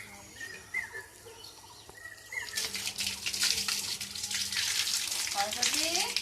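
Water poured out to wash a very dirty spot at a rural Bengal village home, starting as a sudden steady splashing rush after quieter moments with birds and a brief voice, then continuing loudly.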